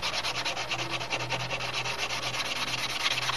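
Balsa sheeting on a model airplane wing, a Brodak Cardinal, being sanded with steady back-and-forth rubbing strokes, close and continuous with no talk.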